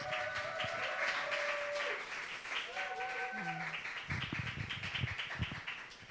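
A church worship audience applauds and cheers, a brief dense burst of clapping that thins into scattered claps and taps as voices take over.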